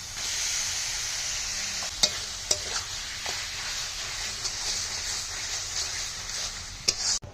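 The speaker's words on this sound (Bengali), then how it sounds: "মশলাটা কষানো হয়ে গেছে এখন দিয়ে দেবো সিদ্ধ করা বেগুনগুলো" Boiled eggplants hit a pan of fried spices and are stirred, a constant frying sizzle broken by a few sharp spoon taps and scrapes, loudest near the end.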